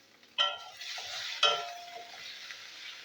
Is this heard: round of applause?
no